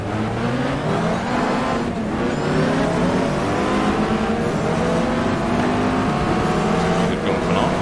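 Competition Dodge Viper race car at the 2003 Spa-Francorchamps 24-hour race in the racing game GTR 2, its engine roaring loud and steady with rising and falling revs through gear changes, under speech.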